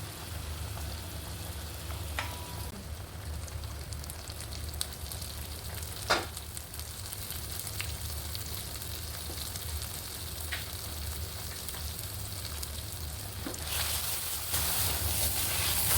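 Chewa fish fries in a nonstick pan with a steady low sizzle and a few faint clicks as the pieces are turned, and the hiss grows brighter and louder toward the end.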